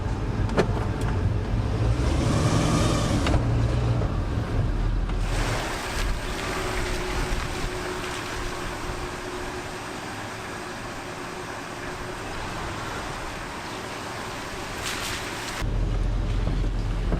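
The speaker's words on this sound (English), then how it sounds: "I'm driving my truck!" A flood-damaged Ford F-150 pickup with a blown power steering seal drives along, its road and engine rumble steady and close for the whole stretch, with no talking.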